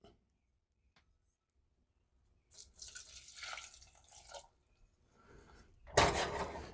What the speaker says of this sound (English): I'm going to put in enough water just to cover it.